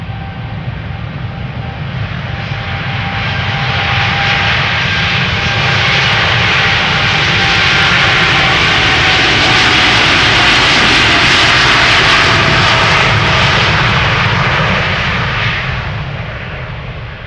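A KLM Boeing 787-10 Dreamliner passes at Amsterdam Schiphol, its jet engines a loud broad roar that swells to a peak midway and slowly fades, heard alone.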